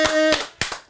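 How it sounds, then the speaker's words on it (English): A handful of sharp, close hand claps ring out in a small podcast studio, with a voice briefly sounding underneath. The claps come in two short pairs and then fade. "Let's clap it up for the team"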